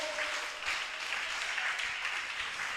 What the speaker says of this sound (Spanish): Dele aplausos al Señor y adórelo